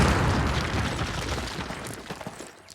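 Explosives blowing a cinder block wall in Call of Duty's American campaign: a heavy, loud boom already underway that rumbles and decays over a few seconds, with scattered debris crackle and no talk.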